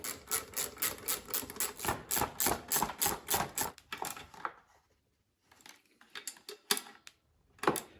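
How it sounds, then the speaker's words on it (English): A hand ratchet tightening the ignition coil bolts on a Troy Bilt lawnmower, giving quick rhythmic clicking bursts for about four seconds, then a pause and a few scattered, sparser clicks and knocks, close and clear. "So now I'm going to tighten the bolts down real good."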